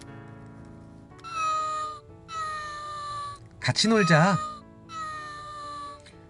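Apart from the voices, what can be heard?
cat meowing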